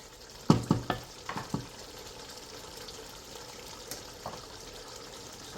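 Rice being stirred into a pot for chicken biryani, a few quick scraping and knocking strokes close by, then quieter stirring over a low steady background.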